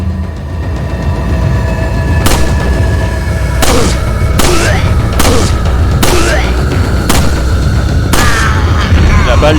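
In Resident Evil 4, gunshots go off one after another as sharp, loud booms spaced a second or two apart, each followed by a ringing tail, over a steady low game ambience with talk mixed in.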